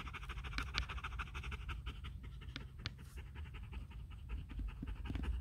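A dog pants rapidly and steadily up close, a rhythmic breathy huffing that continues throughout, with faint outdoor background noise.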